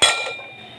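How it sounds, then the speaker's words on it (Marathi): Small steel cooking pots clink as they are nested one inside another, a single bright metallic clank that rings briefly and fades, close and alone. "यामध्ये ही पातेली ॲड करणार आहे."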